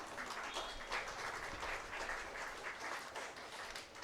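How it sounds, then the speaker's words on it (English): Audience applause at a college graduation day ceremony, a steady dense wash of many hands clapping throughout, moderately distant in a large hall with no talk over it. "A big round of applause to her as well."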